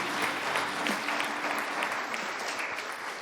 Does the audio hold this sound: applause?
yes